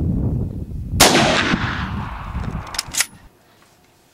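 Mosin Nagant 91/30 rifle firing 7.62x54R at about 400 yards outdoors: one loud, sharp report with a long rumbling echo, then faint metallic clicks of the bolt.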